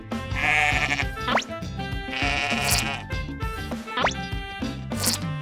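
Cartoon sheep bleat repeatedly over bouncy background music, several loud wavering calls spread across the stretch with no talking.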